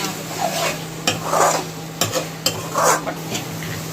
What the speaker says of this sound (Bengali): মশলাটা কিন্তু একদম ভালো করে কষিয়ে দিবে